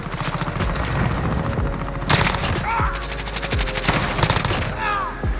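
M4A1 rifle in Modern Warfare firing rapid full-auto bursts, loud and close, with crisp repeated cracks and casings clinking between strings of shots over a low rumble.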